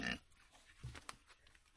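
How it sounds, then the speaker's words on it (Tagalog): Pigs grunt softly in a few short, snuffling bursts, faint and somewhat distant, with no talking. "Baboy nila dito."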